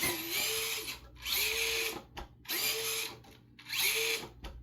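A HobbyPlus CR18P RC car's brushless motor spins the wheels in four short, high-pitched whirring bursts with brief pauses between, each rising and falling in pitch, fairly faint and with no talk.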